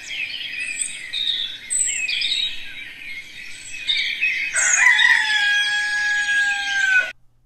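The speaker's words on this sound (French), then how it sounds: "écouter les bruits relaxants des oiseaux" A rooster crows loudly nearby, a long drawn-out call near the end, while smaller birds chirp and sing in bursts around it.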